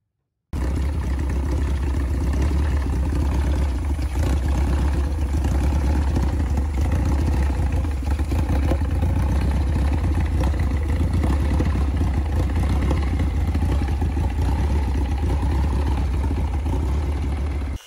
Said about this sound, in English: A clean and reliable engine, ready to speed up in the water.